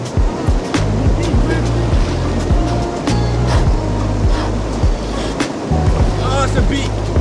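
A river in Corsica rushes in a steady, loud broadband wash that fills the whole stretch, with a few brief knocks and splashes on top.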